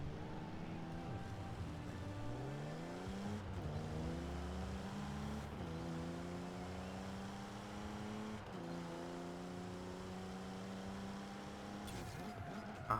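A 1969 Toyota 2000GT engine in the racing game Forza Horizon 4 revs repeatedly. Several rising engine sweeps climb, drop back and climb again over a low hum. The sound is fairly quiet and has no speech.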